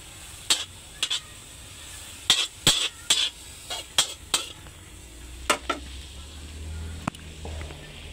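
Garlic, onion and ginger cooking in a pan for tilapia, with sharp clacks of a utensil stirring and scraping in irregular bursts over a faint hiss of frying.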